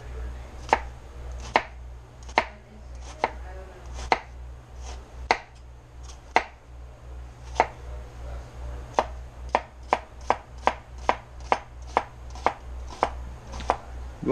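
A knife chops mushrooms finely on a cutting board in a quick run of sharp, evenly spaced taps that come faster toward the end, close and clear over a low steady hum, with no talking.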